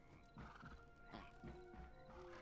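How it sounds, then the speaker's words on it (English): An undead horse in the video game Hytale neighs, a drawn-out whinny mixed with clip-clop hoofbeats over steady background game ambience, with no talking. "Wait, his horse is undead."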